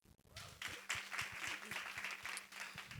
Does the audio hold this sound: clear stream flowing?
no